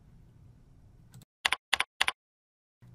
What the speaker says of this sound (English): Simply input appropriate parameters by typing them in.